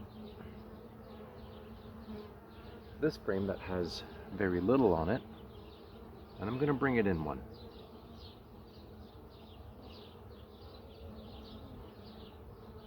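Honey bees hum steadily around hive frames as a beekeeper adds the first honey super, a continuous close buzz throughout, with someone talking over it in the middle.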